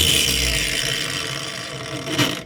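A Hercules angle grinder winds down after being switched off, its loud, close whirring hum fading steadily over a couple of seconds before a brief final rattle as it stops.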